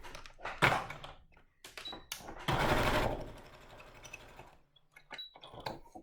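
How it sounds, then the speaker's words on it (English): A sewing machine stitching through layered fabric to close the gap on a coaster, with short bursts of rapid mechanical whirring and clunks separated by pauses, close and moderately loud, no talking. "when we're sewing the gap, we just want to make sure that we're sewing through those fabrics"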